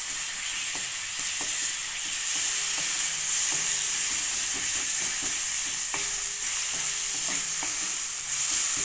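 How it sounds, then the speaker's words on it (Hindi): Ginger, garlic and chili paste sizzles steadily in a hot pan for a vegetable paratha chutney, a constant close frying hiss with occasional light scrapes and clinks of stirring. "थोड़ा सा इसमें अदरक लहसुन और मिर्ची का पेस्ट भी डालेंगे।"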